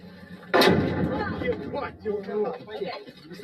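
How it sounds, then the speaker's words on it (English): A heavy artillery shell explodes right next to a car with a sudden loud boom, followed by rumbling aftermath and agitated voices talking. "That was the sound of artillery landing just next to our car,"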